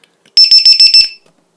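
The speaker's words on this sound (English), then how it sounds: "Once it starts up, it's going to make some very loud beeping noises" A Li-Po battery checker buzzer gives about five rapid, piercing electronic beeps in a quick burst, very loud and close, then stops and leaves silence.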